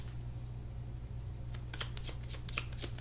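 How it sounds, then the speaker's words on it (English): A deck of tarot cards is shuffled and cut, a quick run of crisp riffling flutters arriving in a burst after a quiet stretch, close and faint over a low steady hum. "Shuffle once, cut twice."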